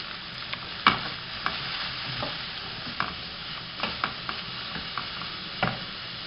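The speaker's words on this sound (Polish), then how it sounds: "Wrzucam pieczarki na rozgrzany tłuszcz." Mushrooms frying in hot fat in a pan for a ribbon pasta mushroom sauce, a steady close sizzle with irregular stirring scrapes and clicks throughout, no talking.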